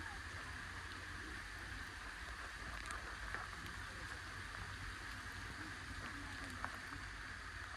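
Rain falls on an open farm field during cotton sowing, a faint, even patter and hiss that carries on steadily, with a few louder drops and no clear talking.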